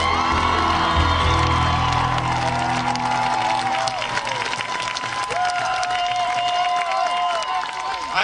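A large audience cheers, whoops and applauds for Howard Zinn as he takes the stage, a loud, dense, sustained roar of clapping and shouting with no pauses.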